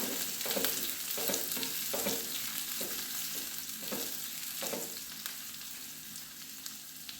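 Chopped onion and garlic frying in a pan, a dense close sizzle overlaid with rhythmic scraping stirs that come in quick clusters before easing off, no voices present.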